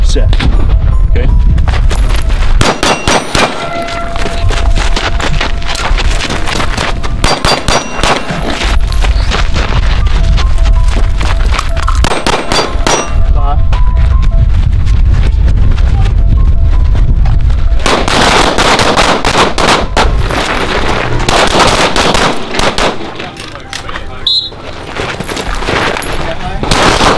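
Loud volleys of pistol and rifle shots on an outdoor training range, rapid cracks fired in bursts and clusters with brief pauses between strings.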